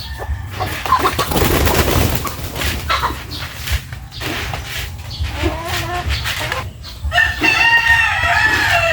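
Chickens cluck around a farmyard while a rooster crows, with loud overlapping fowl calls and bursts of activity near the microphone, and other livestock noises mixed in.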